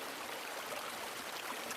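A stream flows steadily beside an organic garden with blossoming pear trees, a continuous soft rushing and trickling of water, moderately quiet and close, with no talk over it.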